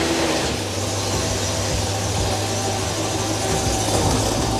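A car engine idling after a points ignition was swapped for a new HEI distributor, the plug wires still lying on the trunk: a loud, steady, close idle with a low rhythmic thrum and broadband mechanical noise, no talking.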